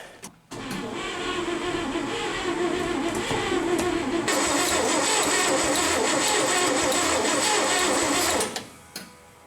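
A 1970 International 1200 truck that sat for 30 years, its engine cranking without firing, a steady loud mechanical whirring drone that runs continuously for about eight seconds before stopping abruptly.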